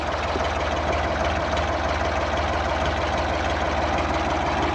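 An engine idles steadily with a low, even rumble and faint rhythmic knock, continuous and close, with no voices.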